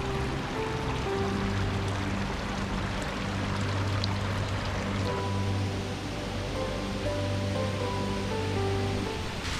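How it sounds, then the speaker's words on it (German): A rushing alpine waterfall in the Zillertal mountains sends out a steady, broad hiss of falling water, heard at a moderate distance and alone, with faint tonal hums running beneath. "Ich höre schon den ersten Wasserfall rauschen."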